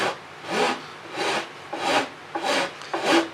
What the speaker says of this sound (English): I will finish that up with a coarse file, not the rasp side, but a coarse file